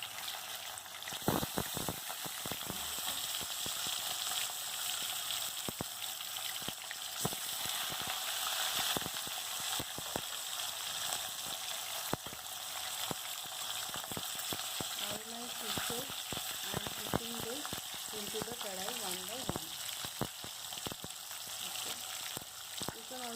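Fish pieces fry in hot oil over a high flame, a continuous loud sizzle with bursts of crackling and spitting throughout, joined later by a voice speaking over the cooking.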